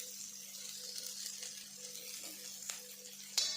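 Stuffed okra spread out in a wide kadhai fries with a quiet, steady sizzle and faint crackle throughout, plus a small clack near the end.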